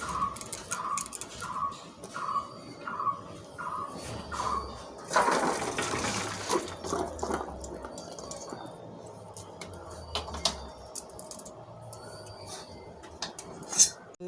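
Water drained off boiled figs in a home kitchen, a few seconds of rushing, splashing pour amid occasional utensil clinks, preceded by a row of regular electronic beeps and followed by quieter clatter.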